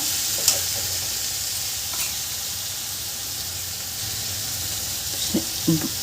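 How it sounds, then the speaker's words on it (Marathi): Radish leaves stir-fried in a pan: a steady, bright sizzle and hiss fills the whole stretch, with a few soft scrapes and taps of the spatula near the end, close and even in level. "अशी मी ही भाजी परतवत शिजवून घेते छान"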